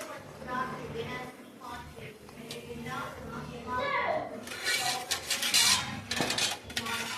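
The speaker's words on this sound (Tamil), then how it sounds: "ரவையை நல்லா போட்டு இதுக்கப்புறம் நீங்கள் கிண்டிக்கணும்" A spoon scrapes and clinks against a pot as semolina upma is stirred, with a person talking in Tamil over the kitchen clatter.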